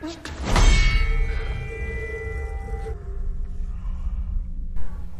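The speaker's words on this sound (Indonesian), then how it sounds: "pukulan mereka hanya menghasilkan suara ting kolontrang saja" A sledgehammer strikes a mysterious black wall in the film Brick, giving one loud metallic clang that rings on with a long fading tonal hum.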